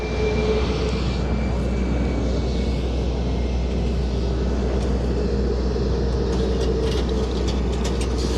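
A Binter airliner backtracks along the runway for takeoff at Madeira airport, its jet engines giving a steady, even drone heard from a distance, with a faint whine laid over the rumble.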